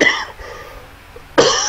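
A person coughing during a casual chat stream: one short cough at the start, a brief quiet pause, then a second sharp cough, loud and close to the microphone.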